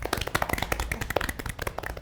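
A crowd applauds, many hands clapping in a dense, uneven patter at a steady level for the whole stretch.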